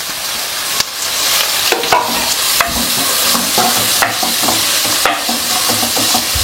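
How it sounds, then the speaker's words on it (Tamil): Onions, asafoetida and curry leaves frying in hot oil, a loud continuous sizzle with repeated scraping stirs of a spatula in the pan, close up, no talking. "அந்த எண்ணெயில் வறுபடும் போது பார்த்தீங்கன்னா வெங்காயம் வதங்கிருச்சு"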